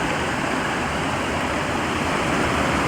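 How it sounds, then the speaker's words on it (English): Steady rushing river flowing over rocks beside a stealth hammock campsite, a loud, continuous broadband wash of water with no voices. "Camping by the banks of a river."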